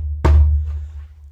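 A single deep djembe bass hit with a low booming resonance that rings out and fades, played alone.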